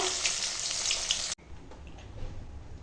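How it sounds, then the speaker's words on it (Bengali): Hilsa fish frying in oil in a pan gives a loud, dense, steady sizzle that cuts off abruptly partway through, leaving only a faint low background. "এখন মাছটা ভাজা হয়ে গেছে"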